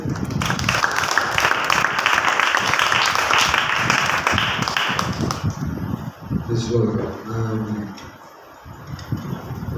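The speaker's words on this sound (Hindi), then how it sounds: "वैसे आप ताली बजाइए।" A church congregation claps for several seconds amid voices, then the clapping fades and talking carries on alone.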